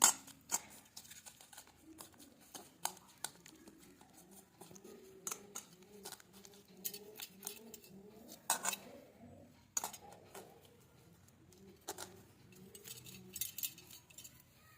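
Flour dough being mixed by hand with egg, black cumin seeds and salt for crisp khasta biscuits. Soft, irregular clicks, taps and light scrapes come close by and fairly quiet, with no talking.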